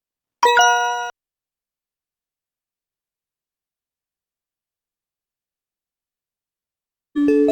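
A bright electronic correct-answer chime rings once briefly, followed by several seconds of total silence before a second chime starts right at the end.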